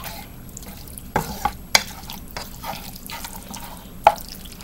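Sloppy joe meat is stirred through its sauce in a pan, with soft wet scraping under a low background hiss and a few sharp clinks of a spoon against the pan.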